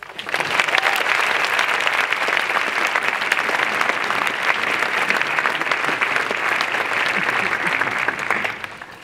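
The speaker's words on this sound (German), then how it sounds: "Applaus." A large audience at an open-air classical concert in Frankenberg claps loudly and continuously, a dense wash of applause that fades slightly at the end.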